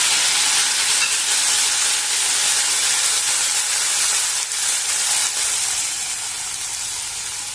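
Tomatoes going into a pan of frying onions, giving a loud, steady, close sizzling hiss that runs through the whole stretch and tapers slightly toward the end, with no talking.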